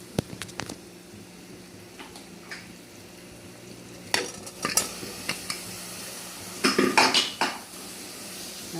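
Bottle gourd pieces dropped into a pan of oil, tomato and spices and stirred, with metal spoon scrapes and clatters against the pan, a few early, then bursts of louder stirring near the end over a faint sizzle; no talking.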